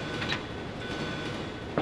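Train running in Resident Evil 2, a steady rumbling rail roll with faint clattering accents and a brief metallic swell near the end, no voices.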